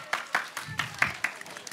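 Audience applause at a children's festival program on a local stage, a short burst of scattered, uneven clapping that sounds moderately close.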